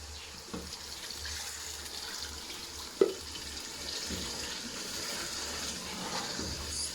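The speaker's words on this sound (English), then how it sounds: "I'm going to put 1 cup of water." Water streams steadily into a pot with a constant splashing hiss, broken by one sharp clunk partway through.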